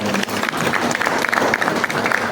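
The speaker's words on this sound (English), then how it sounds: "Please, a round of applause for us." A room full of people applauds continuously in a dense, steady patter of clapping with crowd murmur beneath it, holding at an even, fairly loud level throughout.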